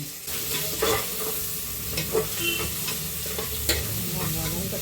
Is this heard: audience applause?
no